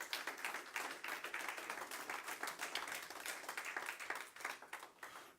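A church congregation claps together in a dense, steady patter of many hands, fairly faint and even, with no talking over it.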